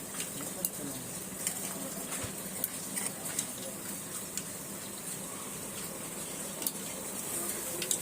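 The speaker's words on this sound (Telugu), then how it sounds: "ఆవాలను జీలకర్ర నూనె కాగనిచ్చి ఆవాలు జీలకర్ర వేసాను. వేగుతుంది" Mustard and cumin seeds fry in hot oil, making a faint steady sizzle with scattered tiny pops and crackles, under a person talking.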